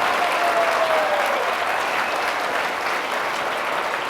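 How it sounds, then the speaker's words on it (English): Sustained audience applause at a gala honoring people over seventy, dense, even clapping from a large crowd continuing throughout with little change in loudness. "Give them a big wave and a round of applause"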